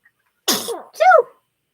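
A small child with a cough gives a single sharp sneeze: a breathy burst followed by a brief voiced cry, close and alone in a quiet room.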